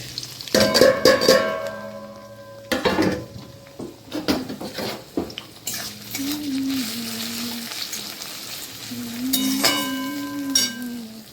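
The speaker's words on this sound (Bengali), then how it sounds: "তেল গরম হয়ে গেছে, তারপর আমি দিয়ে দেবো পেঁয়াজ" Onions for mutton khichuri hit hot oil in a pan, bringing bursts of clattering and stirring, then a continuous sizzle. Scraping sounds recur through it, and a faint tonal background sound rises and falls.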